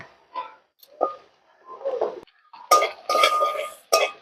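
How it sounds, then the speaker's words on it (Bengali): Chopped ginger being fried and stirred in a pan for fried rice: scattered metallic clinks and scrapes of a utensil against the pan, growing denser and louder toward the end, close and without talk. "এটা আমি সামান্য লাল করে ভাজবো আর কম আছে ভাজবো এটা"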